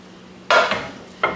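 Two short metallic clanks as pots and pans are moved and set down, close by with a quiet pause between them.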